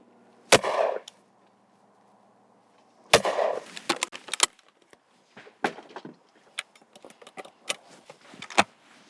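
Browning B525 over-and-under shotgun fired at clay targets outdoors, with two loud, sharp reports a few seconds apart, each trailing a short rumble, followed by smaller clicks and knocks of handling the gun.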